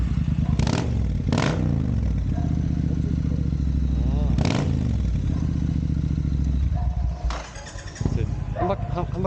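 A Triumph Bonneville motorcycle fitted with an aftermarket muffler idles loudly and steadily up close, with its exhaust rumbling throughout while people talk nearby.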